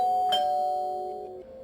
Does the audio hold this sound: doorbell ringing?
yes